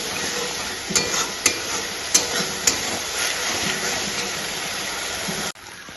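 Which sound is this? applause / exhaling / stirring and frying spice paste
stirring and frying spice paste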